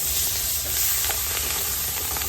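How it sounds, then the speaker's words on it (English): Onions stirred into a dark roux in a pot for chicken and sausage gumbo, giving a loud, steady hiss and sizzle broken by soft scraping strokes of the spoon. "What you want to do now is add your onions to it."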